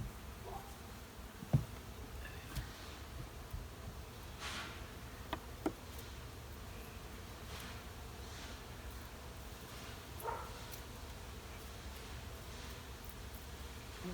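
Faint, steady buzzing of honey bees around a hive during honey harvesting, with occasional soft knocks and rustles nearby.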